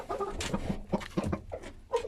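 A young rooster from the star bloodline, recovering after being unwell, gives a short run of close, low clucks with brief rustling in between.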